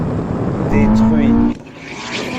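A Honda AWD car and a Porsche 918 Spyder launching from a standing start in a drag race: loud engine roar with a rising whine that cuts off sharply partway through, leaving lower rumble under voices.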